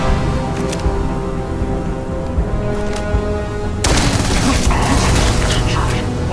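Gunfire in the game Starfield, with scattered sharp reports over a droning backdrop, then a sudden, louder burst of shots and impacts that continues to the end.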